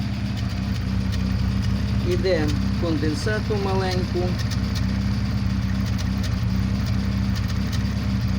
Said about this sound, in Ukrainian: двигун я завів, ніякого підвищеного звуку вихлопу не чуть, все тихенько працює